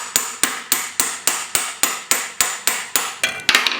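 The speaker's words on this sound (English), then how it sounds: "you can take your 36mm socket again and hammer it until the thread shows" 36mm socket hammered onto the thread of a BMW ZF320 transmission, a dozen sharp metallic blows at a steady, quick rhythm, close and loud, with the last few strikes coming faster and less even.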